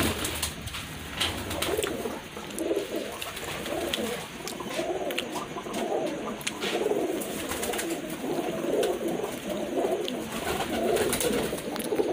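Two male pigeons squabble at close range, producing continuous throaty cooing and rustling for the whole stretch, with no voices.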